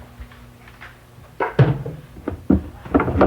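A cat knocking objects off a kitchen counter: several sharp clatters and knocks in quick, uneven bursts, close and fairly loud, with quieter rustling between impacts.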